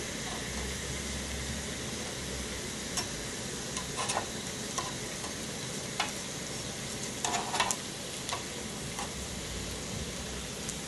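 Potatoes sizzle steadily in a hot pan, with a few light clicks and scrapes as they are turned, the frying hiss even and close throughout.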